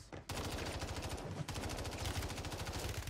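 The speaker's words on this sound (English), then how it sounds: "we have the MTZ-556." Sustained automatic fire from an MTZ-556 assault rifle in a Rebirth Island video game match, a fast even stream of loud shots that pauses briefly and then resumes, with no talking.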